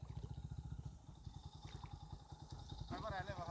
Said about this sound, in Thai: มอไซค์ไม่แน่ใจว่าจะผ่านได้หรือไม่ถ้าผ่านไม่ได้ก็ต้องเปลี่ยนเส้นทางนะครับ